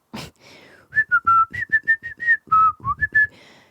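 A voice imitates a high-pitched whistle, a quick series of short shrill tones rising and dipping, close and clear after a brief breathy sound.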